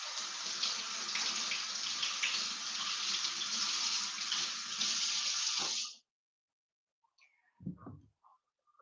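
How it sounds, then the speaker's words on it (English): Potatoes being rinsed under a running kitchen tap, a steady close hiss of flowing water for several seconds before it shuts off, leaving a few faint handling knocks. "Let's wash these and then I'll cut them up."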